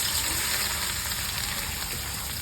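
Chopped onion frying in mustard oil in a home kitchen, a loud, dense, continuous sizzle and crackle close up with no talking.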